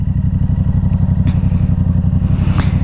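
A Yamaha R7 motorcycle under way, its engine a loud, steady pulsing drone throughout, with a couple of brief clattering bumps over the running motor.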